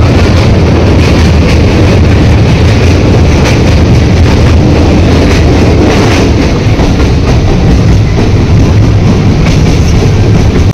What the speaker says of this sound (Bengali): ওই ঢুকে গেছে আমাদের ট্রেন